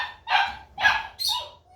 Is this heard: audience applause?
no